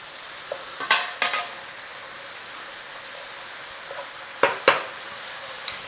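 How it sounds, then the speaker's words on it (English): A steady, soft sizzle of onions frying in oil in a pan, broken by a few sharp clattering scrapes of stirring. "we're going to start frying these onions now"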